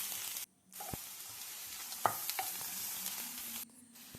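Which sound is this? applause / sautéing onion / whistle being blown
sautéing onion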